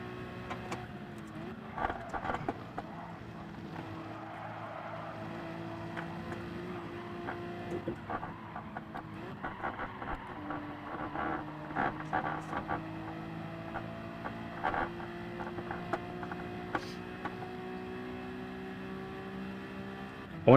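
An Alfa car in Gran Turismo 7 strains up a hill, its engine a steady droning note that rises and shifts pitch through gear changes, continuous for the whole stretch at moderate level.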